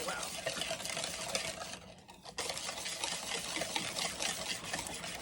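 Eggs are whisked briskly into brown butter blondie batter in a bowl, giving a quiet, continuous scraping and sloshing with a brief pause midway.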